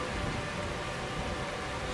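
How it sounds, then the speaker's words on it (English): Steady rain pours down in a horror video game set in a cave, where blood falls as rain; a dense, even hiss fills the whole stretch at moderate level with no voices. "It's raining blood."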